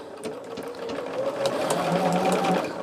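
A sewing machine stitches fabric in a steady, rapid mechanical whir with a fast repeating needle clatter, running close and continuously throughout with no talking.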